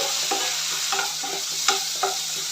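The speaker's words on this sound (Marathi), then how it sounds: "आणि टोमॅटो देखील सॉफ्ट होईपर्यंत एक दोन मिनटं तेलात परतून घेऊया" Chopped tomato stir-fried in oil with ginger-garlic paste for an Aagri chicken rassa, a soft steady sizzle broken by four or five spatula scrapes against the pan, close and without speech.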